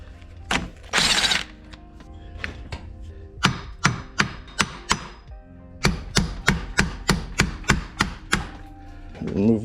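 Hammer blows pound a stuck rear axle on a 1998 Subaru Impreza 2.5RS GC8. Sharp metallic strikes come close and loud in quick bursts, a few scattered hits, then two steady rhythmic runs split by a short pause.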